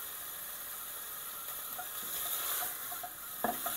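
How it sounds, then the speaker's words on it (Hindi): Tuna fish frying in a pan gives a soft, steady sizzle and hiss at low volume, with a few faint stirring clicks near the end. "3 मिनट हो गए मुझे भूनते हुए"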